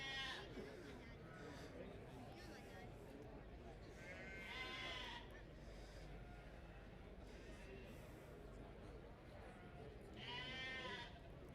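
Dutch Spotted sheep at the Royal Highland Show bleating in several wavering calls over a busy show-ring background of chatter and crowd noise, moderately near.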